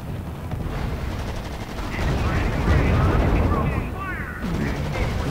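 Gunfire from battles in the strategy video game R.U.S.E., sounding as a dense, continuous rattle of shots and explosions at moderate volume.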